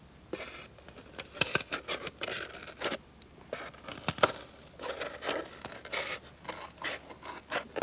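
A printing plate having its outside edge cut away, a series of close, uneven snipping and scraping crunches with crinkly rustles between them, no voices.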